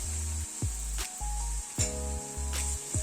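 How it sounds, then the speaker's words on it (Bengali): Chopped onions sizzle slowly in a pan over a low gas flame, a steady soft hiss running throughout with a low, intermittent hum beneath it and no talking. "গ্যাসের ফ্লেমটাকে কম করে দিয়ে পেঁয়াজটাকে ধীরে ধীরে কুক করে দিচ্ছি।"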